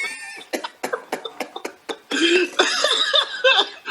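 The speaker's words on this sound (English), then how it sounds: "They gonna make me cough" A series of sharp, rapid coughs in quick succession, close and loud, followed by a voice speaking and laughing hoarsely.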